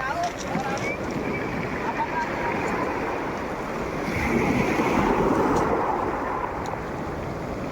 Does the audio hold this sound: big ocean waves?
yes